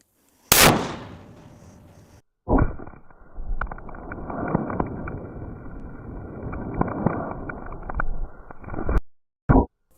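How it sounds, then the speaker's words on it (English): A .50 caliber rifle fired with silver tip ammunition outdoors, one sharp loud blast near the start followed by a long windy rumble and a second brief burst at the end, with no speech. "shot number 3 of our silver tip 50 cal"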